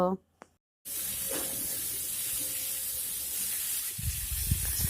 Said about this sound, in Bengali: এখন আলুটিকে একটু ভেজে নেব।